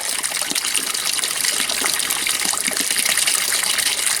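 Creek water flows outdoors on a rainy day, a loud, continuous close gushing and trickling with no voices over it.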